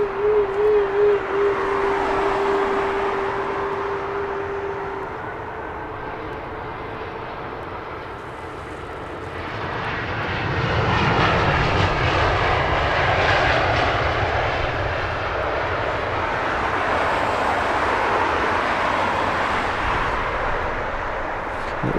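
A jet airliner departs London Heathrow Airport at sunrise, its engines roaring loudly before the rumble swells again as it climbs out westward, a broad continuous sound heard from the ground at some distance.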